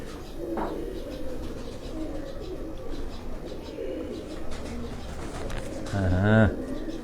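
A pigeon coos in a loft, its low throaty calls running steadily through the clip with a louder burst near the end, while someone talks over it nearby.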